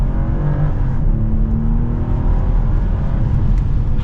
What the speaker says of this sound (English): We'll do one last acceleration.